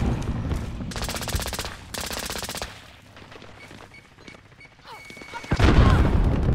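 Gunfire in Call of Duty: Warzone at a stadium: two loud bursts of rapid automatic fire, then quieter distant shots, and finally a heavy boom with rumble, close and dominant.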